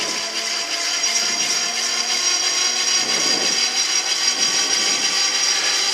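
A gyroplane's engine and prerotator spinning up the rotor on the ground before a solo flight, producing a steady, loud whine with sustained tones and faint rising textures, continuous throughout with no voices.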